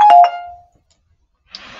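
A bell sound effect chimes twice in quick succession, bright and close, then rings out into silence before a short breathy noise at the end.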